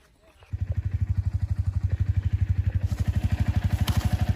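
A motorcycle engine starts up after half a second and idles with a steady, rapid chugging pulse, close by and loud throughout.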